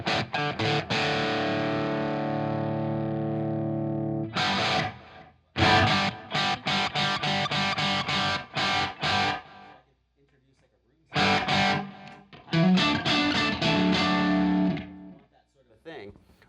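Electric guitar played through a Universal Audio Ox amp captured with a room mic, loud distorted chords and single strummed hits, sustained ringing sections broken by short silences and choppy rhythmic bursts.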